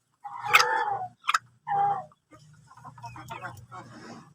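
A brooding half-Shamo hen gives a few close, loud, drawn-out clucks and growling calls in short bursts, followed by quieter murmuring vocalisations.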